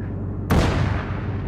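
A tank cannon fires a HEAT round at a bunker in a military video game: one sudden, very loud boom cuts in over a low engine rumble and rolls off into a long, fading echo.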